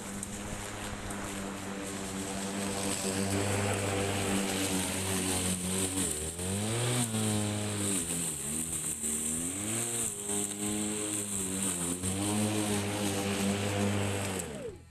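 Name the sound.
cordless electric lawn mower cutting thick grass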